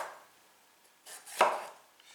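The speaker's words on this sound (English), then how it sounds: "for the peppers, I like to slice them down the walls, this way" A knife slices down the walls of bell peppers on a cutting board, giving two quick cuts, the second a sharp, louder chop that trails off, in a quiet kitchen.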